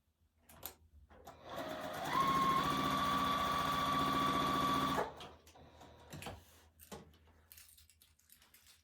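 A sewing machine stitches side wings onto a barn quilt block in one loud, steady burst of whirring and needle chatter lasting about three seconds, followed by quieter fabric handling.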